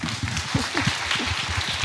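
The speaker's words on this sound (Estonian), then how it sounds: "Ma arvan, et kõik meie lektorid on teeninud ühe tugeva aplausi ära." Conference audience applauding its lecturers, a dense, sustained patter of many hands clapping with a few voices murmuring underneath.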